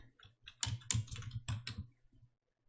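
A computer keyboard types text into PowerPoint in short bursts of close, crisp key clicks, with quick flurries and pauses under a low steady hum, and no talk.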